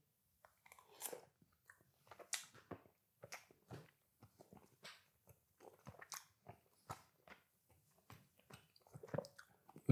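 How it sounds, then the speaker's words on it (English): Close, wet chewing of instant tteokbokki rice cakes, a steady run of soft crunchy bites and squishy mastication pulses repeating through the whole stretch with no talk. "You can probably hear it, all that chewing."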